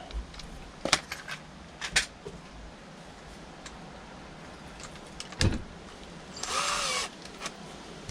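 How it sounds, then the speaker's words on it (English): A power drill bores out a part to free it up, sounding as one short steady whirring burst near the end among scattered clicks and knocks of handling, close by and without talk. "I'm going to drill this out so I can get everything moving freely in it."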